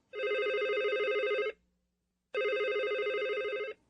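A telephone rings in a hospital room where a company chairman lies admitted, two long electronic trilling bursts separated by a short pause, clear and close with nothing else over it.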